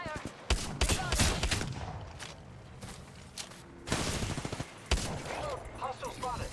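Rapid bursts of video game gunfire crackle almost nonstop through a squad firefight, loud and close, with brief lulls between volleys and a few softer clatters.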